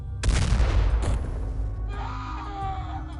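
A rifle shot in the video game XCOM (The X-Com Files): one loud, close blast opens the moment and then rings out in a long decaying tail, leaving quieter tones behind.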